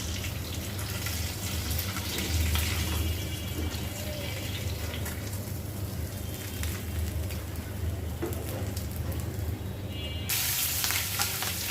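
Fish fries in a pan for a Bengali papaya curry, a loud, steady, broadband sizzle that runs without a break and grows harsher and brighter near the end.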